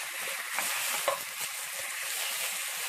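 Fish cake stir-fried in a pan with a spoonful of soy sauce and garlic, a steady close sizzle with faint scraping stirs throughout.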